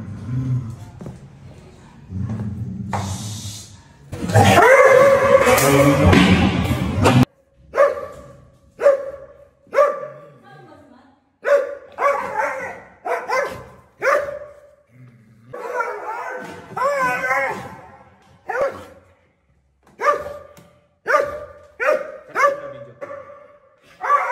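A restless dog barking while having its nails clipped, giving a long run of sharp, close barks and yips at an uneven rhythm, with people talking at the start and between the barks.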